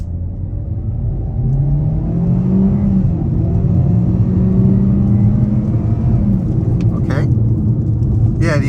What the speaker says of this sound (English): I guess we can try an acceleration out off the line